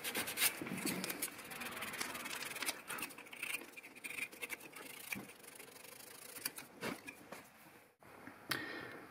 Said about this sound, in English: Now I'm going to lightly sand the surfaces with 320 grit sandpaper.